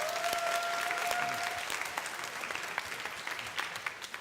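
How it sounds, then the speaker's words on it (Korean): Applause from a church youth service audience of parents and families, a steady wash of many hands clapping throughout, moderately distant in a hall, with a faint tone at the start and no speech over it. "우리 열심히 한 친구들에게 박수 한번 부탁합니다."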